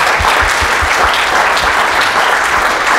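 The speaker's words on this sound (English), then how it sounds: "And would you join me, please, in a round of applause?" Loud, dense applause from an audience thanking bioethics panelists, continuous and evenly sustained throughout.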